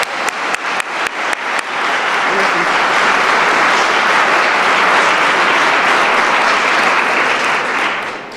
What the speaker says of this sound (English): And if you all want to stand up for a round of applause